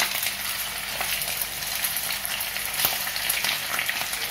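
Home-style meat cutlets sizzle and crackle steadily in a frying pan, a dense, even hiss of hot oil with occasional louder pops, continuous and close throughout.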